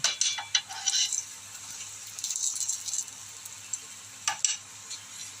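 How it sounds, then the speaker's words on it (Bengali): Oil poured straight from a bottle onto a hot tawa for paratha hisses and sputters in short bursts, with light rattles and clinks over a faint background. "আমি এইভাবে ডাইরেক্ট বোতল থেকে তেলটা ঢেলে দিচ্ছি তাওয়ার মধ্যে"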